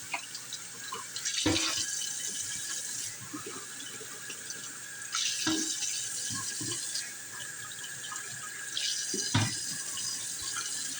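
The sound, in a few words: draining the liquid from black beans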